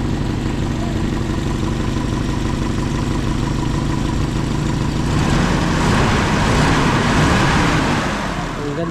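A Toyota 5K engine idles steadily and close by, then the revs rise and hold higher for the last few seconds, with no talking over it.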